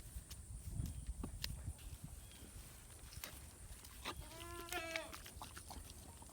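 Goats on a farm bleat, with one clear wavering bleat standing out near the end over rustling, hoof shuffling and background movement close by.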